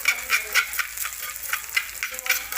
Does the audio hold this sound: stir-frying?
yes